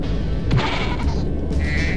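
A sheep in Spyro 2: Ripto's Rage, in the Aquaria Towers level, gives a short bleat as it is struck, accompanied by a thud and a crash amid steady game background sound.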